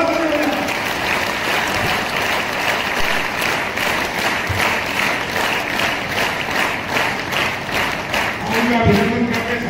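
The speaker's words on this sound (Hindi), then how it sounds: "जोरदार ताली बजाएं।" Loud, sustained applause from a large crowd at a political gathering in Harda honouring the prime minister and ministers, with rhythmic clapping in close repeated waves and a voice briefly rising near the end.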